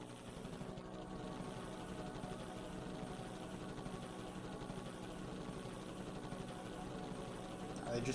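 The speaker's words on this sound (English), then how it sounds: "I'm glad it's an autopilot helicopter." An autopilot helicopter engine in the video game Danganronpa Another gives a steady, pulsing rotor drone that runs unbroken for the whole stretch at moderate level.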